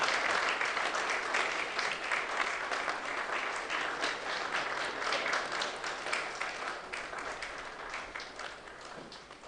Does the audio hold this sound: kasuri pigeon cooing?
no